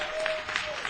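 A comedy club audience at a stand-up show claps in a brief, dense burst of applause, moderately loud and steady throughout.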